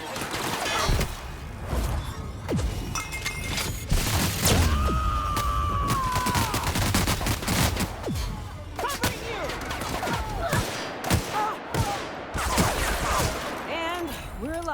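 Gunfire from a weapon in The Outer Worlds, with dense repeated shots and crashing impacts throughout a busy battle soundscape, loud and close, with speech partly underneath.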